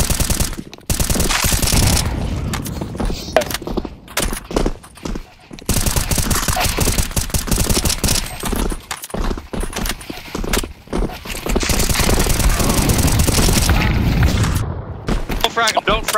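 Dense automatic gunfire and bursts from shooting zombies in a CS2 Zombie Escape match on the Mario Tower map, loud and nearly continuous with brief gaps, mixed with game effects and people talking over it.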